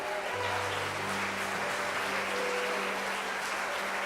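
A church congregation applauding: steady, fairly soft clapping from a crowd held at an even level throughout, with no talk over it.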